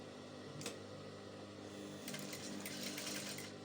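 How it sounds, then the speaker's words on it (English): A sewing machine runs a steady, quiet stitching hum along a rolled seam on a circle flare hem, with brief bursts of higher whir partway through and no talking. "so I'm sewing on that same seam"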